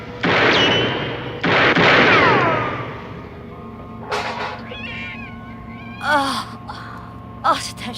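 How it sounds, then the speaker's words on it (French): Loud, drawn-out cat meows, two long wails up close, followed by fainter chirpy mews and short cries, no talking. "Oh, c'est un chat, évidemment."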